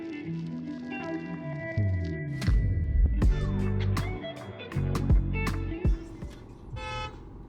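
Several short car horn toots sound amid traffic, some overlapping with different pitches, moderately loud over a background of engine noise.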